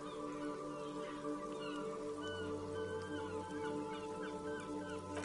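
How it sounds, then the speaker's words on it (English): Rain dripping off Eternite-covered roofs along an urban coastline in a video game, a soft, faint patter of drops under a quiet, sustained tonal hum. "rain dripping off Eternite-covered roofs"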